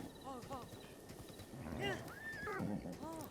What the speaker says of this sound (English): Soothe the rather sensitive horse.